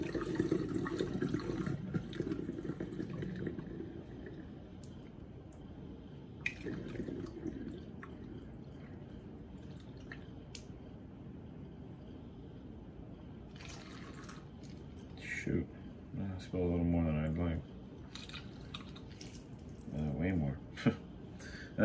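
Whey liquid is poured off from a strainer while making homemade yogurt, giving soft trickling and dripping splashes, louder at first and then intermittent, with brief bits of talk and some kitchen handling noise.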